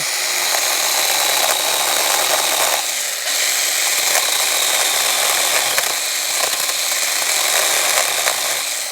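A 24-volt ASJMREYE mini chainsaw cuts through wood, a loud, steady high-pitched buzzing whine with chain rattle that holds nearly constant throughout, dipping briefly once before continuing.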